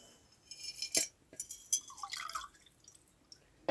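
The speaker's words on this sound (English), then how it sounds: "we will top this up with some seawater because I miss the sea" Seawater poured into a vessel on a winter witch's altar makes quiet, scattered drips and small glassy clinks, with a brief soft trickle in the middle. There is no speech.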